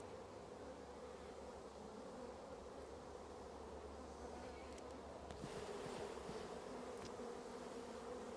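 Honey bees on a brood comb frame pulled from a hive during winter preparation, a dense, continuous close-up buzzing drone with occasional louder swells of individual bees.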